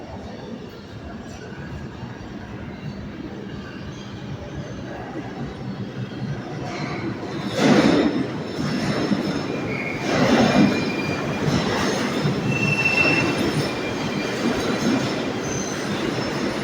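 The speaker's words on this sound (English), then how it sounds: "here comes the train." A New York City subway train pulls in at night with a steady rumbling roar, brakes squealing in high bursts as it slows, loud and close against the echoing station.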